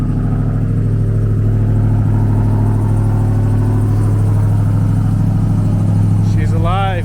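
Ram TRX truck engine idling after refuelling, a loud, steady low rumble close by throughout, with a voice speaking briefly over it near the end.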